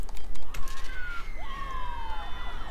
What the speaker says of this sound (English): An ambulance has turned up to pick up the dead guy.